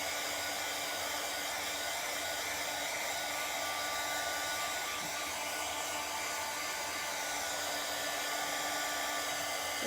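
A handheld hair dryer blowing on chalk paste, a constant loud hiss of airflow with a steady motor whine, unbroken for about ten seconds with no talk.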